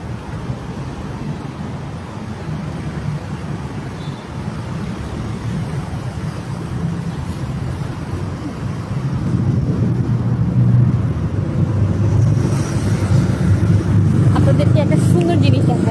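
Road traffic on a street in Malaysia: a steady low rumble of passing vehicles that grows louder about halfway through, with voices mixed into the background.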